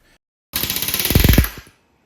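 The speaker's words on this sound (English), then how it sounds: "trying to get the rivet gun on one side of the skin and line up the bucking bar on the other" A pneumatic rivet gun drives a rivet through aluminum skin into a bulkhead on a Van's RV-14 aircraft aft fuselage, heard as a single loud burst of rapid hammering lasting about a second, close up and alone.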